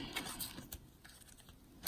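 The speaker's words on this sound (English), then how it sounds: "I'm going to take this tape off." Adhesive tape peeled off a homemade fabric makeup stash bag: a quiet, irregular tearing rasp lasting under two seconds, with a slightly sharper rip at the very end and no talking.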